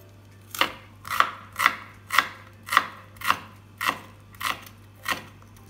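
A sharp kitchen knife chops garlic cloves and onion on a board as tempeh seasoning is prepared. About nine evenly spaced, crisp thuds sound close and clear, with no talking.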